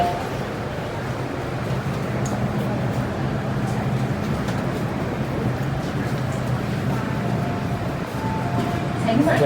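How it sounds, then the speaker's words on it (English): An MTR Island Line M-Train pulling out of the station, a steady low rumble and hum of rolling stock that holds evenly throughout and rises slightly at the end, with station ambience around it. "Wait for train leave."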